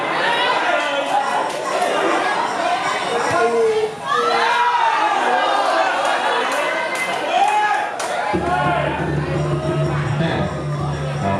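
Spectators shout and cheer continuously at a football final between the Udon Thani combined justice team and a combined media team, a dense, loud crowd roar with excited voices, while a commentator talks over it.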